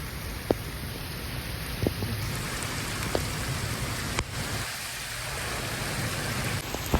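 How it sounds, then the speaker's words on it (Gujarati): Heavy rain pours steadily in a dense, continuous roar in Botad village, Gujarat, with occasional louder drops striking nearby surfaces and no talking. "જોરદાર પડે વરસાદ"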